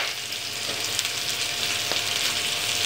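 Crab thoran masala paste and softened onions frying in a pan in a Kerala-style kitchen, a steady close hiss of sizzling oil with faint stirring scrapes throughout, no voices.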